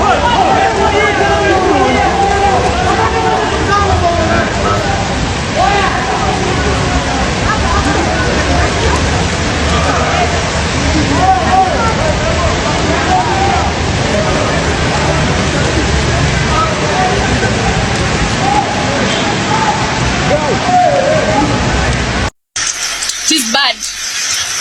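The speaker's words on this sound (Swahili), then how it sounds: "Mvua inanyesha huku ni mingi sana." Heavy rain and rushing floodwater on a flooded Nairobi street, a loud steady wash of water that fills the whole stretch, with voices faintly mixed in before it cuts off near the end.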